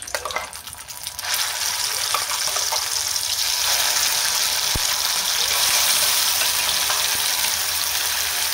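Bay leaf dropped into hot cooking oil sets off a loud, steady sizzle that swells after a quiet first second and holds up close, crackling continuously with a few faint clinks.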